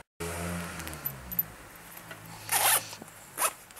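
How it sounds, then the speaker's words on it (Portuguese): A zipper slider is threaded back onto a fabric zipper for a small patchwork pouch, heard as two short, close, raspy zips, one longer than the other, with faint rustling and a low background hum. "a gente precisa colocar aqui o cursor do zíper de volta"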